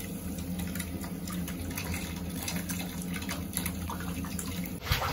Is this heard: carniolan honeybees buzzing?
no